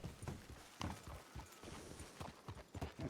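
Horse hooves clip-clop at a walking pace in the RedM WildRP Western role-play game, a series of distinct clopping steps with uneven rhythm, fairly quiet overall.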